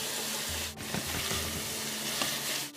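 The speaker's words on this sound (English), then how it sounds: "just added our meat now, and we're going to brown that off as well." Diced meat browns in a pot with diced potatoes, carrots and fresh bay leaves for a Guinness steak pot pie, giving a loud, steady sizzle and crackle close up, with a few stirring scrapes.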